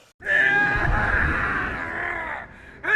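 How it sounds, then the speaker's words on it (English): A long, high, strained scream from the Star Wars character Barriss Offee, loud and sustained for over two seconds, then tapering off, followed by a brief rising cry. "Insert sound clip of Barriss screaming."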